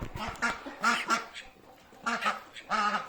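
Loud, nasal duck quacks on a poultry farm come in quick clusters of two or three, close by, with brief pauses between the bursts.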